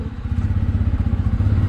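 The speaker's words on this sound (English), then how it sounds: "Oh man, this engine is so smooth." A motorcycle engine runs during a test ride, giving a steady, smooth low rumble with even rapid pulsing, close and continuous without speech.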